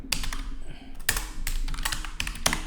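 Keys clack on a computer keyboard while a database query is typed, coming in irregular bursts of sharp close-up keystrokes over a low steady hum.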